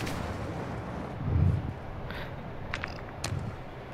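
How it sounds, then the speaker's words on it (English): Distant bombs exploding in a Call of Duty DMZ match, a deep rumbling boom near the middle followed by a few lighter blasts and cracks, faint and far off with no talk. "Bombs."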